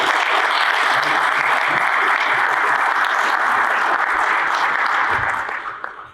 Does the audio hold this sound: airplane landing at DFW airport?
no